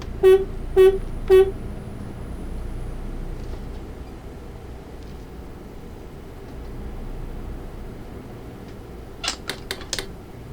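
Three short, loud horn honks from a Setra S 516 HD bus in Euro Truck Simulator 2, then a low idling engine rumble with a few faint clicks near the end.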